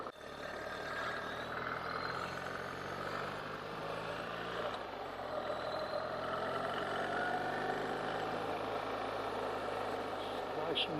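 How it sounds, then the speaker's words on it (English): A 2024 BMW R1300 GS motorcycle engine runs steadily, a constant moderate hum with wind and road noise heard from on board. "it's a noisy engine."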